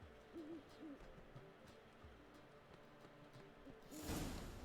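Owl hooting in the video game Witcher 3: a series of soft, low hoots repeated at a steady pace over a quiet outdoor ambience, then a brief whooshing rush of sound at the end.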